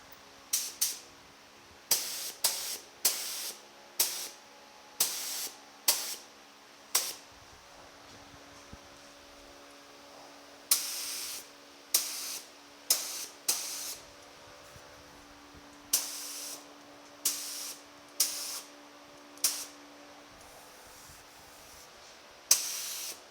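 Spray gun laying coats of paint on a truck fender, a series of short, sharp hissing bursts in an irregular rhythm, with a low fan hum running steadily underneath.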